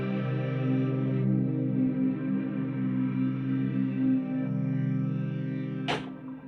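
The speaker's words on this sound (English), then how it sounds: "Maybe this space reverb." A thick, droning Korg Opsix synthesizer chord through a space reverb effect, with a washy, spacious reverb tail, steady volume, ending in a short bright noisy burst.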